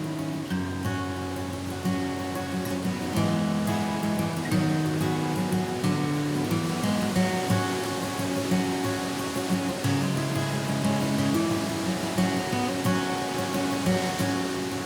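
A river dammed by a landslide churns wildly out of a narrow choke point at the downstream end of a lake, a loud, steady roar of rushing turbulent water heard alone and close in a Pacific Northwest mountain setting.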